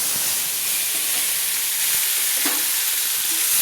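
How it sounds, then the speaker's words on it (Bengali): Chopped tomato frying in hot oil over a low gas flame while being stirred, a loud continuous sizzle and crackle close up, with a brief scrape of the spoon midway and no voices. "একটা টমেটো আমি দিয়ে দিলাম, দিয়ে আমি সুন্দর করে তেলের মধ্যে নেড়ে নিচ্ছি"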